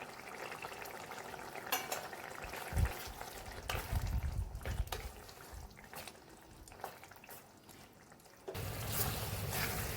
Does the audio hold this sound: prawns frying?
yes